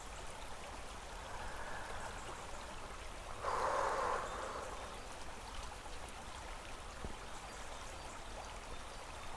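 Flowing river water during a guided meditation, a soft continuous trickling stream with a brief brighter splash midway, faint and calm.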